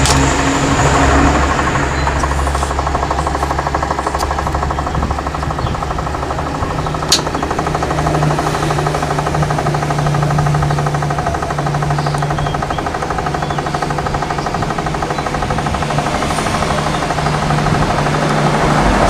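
A Panasonic automatic washing machine being converted to manual runs with a continuous mechanical motor hum and rattle, close and steady throughout, with one sharp click partway in and no talking.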